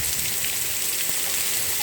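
Rain falling steadily outdoors, a dense continuous hiss of drops spread evenly through the whole stretch, close and fairly loud with no voices over it.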